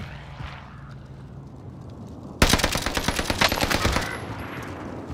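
Gunfire in the Warzone video game: a quiet ambient stretch, then a burst of rapid automatic shots crackles in loudly, continuing as dense repeated fire for a couple of seconds before easing slightly.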